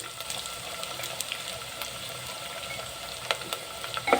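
Two thinly sliced onions frying in a pan, a soft, continuous sizzle and bubbling with a few light stirring scrapes, fairly quiet and close, without any voices.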